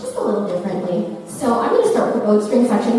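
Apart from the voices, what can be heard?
No everyday noises stand out.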